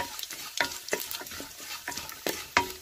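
Urad dal, curry leaves and chilli fry in oil over a low flame for a tempering for beaten rice, with a soft, quiet sizzle punctuated by intermittent scraping and stirring clicks close up.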